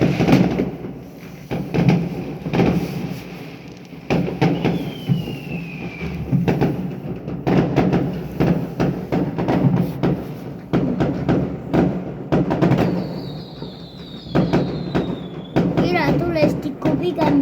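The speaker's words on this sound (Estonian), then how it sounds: "Iletulestikku pigem ei peaks siin laskma" Fireworks going off on New Year's Day: repeated sharp bangs and dull thumps with a couple of descending whistles, fairly close, mixed with background voices and talk.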